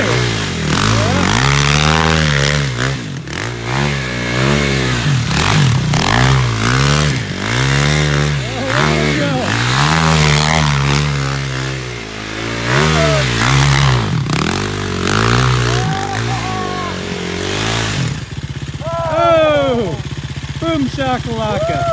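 A three-wheeler ATV doing donuts, its engine revving in repeated rising and falling surges close by, with tire scrapes and a voice talking over it.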